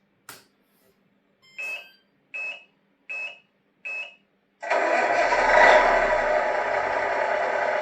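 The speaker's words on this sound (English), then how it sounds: "So you get proper engine sound." A Tamiya MFCU-03 sound unit plays a simulated truck engine: a few short electronic beeps, then a loud synthetic engine start that settles into a steady droning run.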